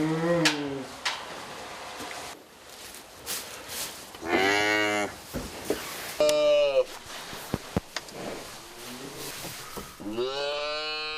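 Cattle on a farm moo repeatedly, several long loud calls spread across the scene, with quieter rustling and handling noises between them and no talk.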